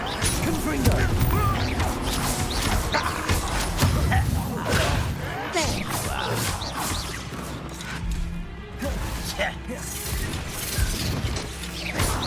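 The Confringo spell cast in Hogwarts Legacy, with dense, loud crashing, smashing and mechanical clattering from a continuous magical battle.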